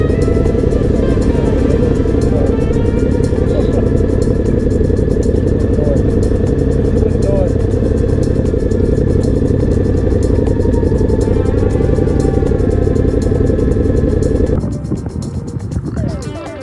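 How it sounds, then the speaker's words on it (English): Small car engines in a car-soccer video game rev and drone steadily at close range, a continuous loud hum with clattering over it until it thins out near the end. "These little baby engines."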